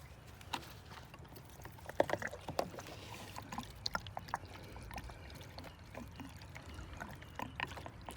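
Liquid poured through a funnel into an RV battery, gravity fed: soft gurgling and trickling with scattered small splashes and clinks, fairly quiet and with no talk.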